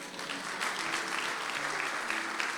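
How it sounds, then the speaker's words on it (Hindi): Church congregation applauding during a Sunday sermon at an apostolic church, a steady dense clapping that fills the whole moment at moderate loudness, with faint voices mixed in. "ताली बजा दें"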